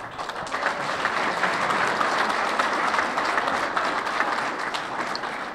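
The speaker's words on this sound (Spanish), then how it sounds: "Aplausos." Audience applause at a livestock producers' gathering, steady dense clapping from a sizable crowd, moderately loud and sustained without a break.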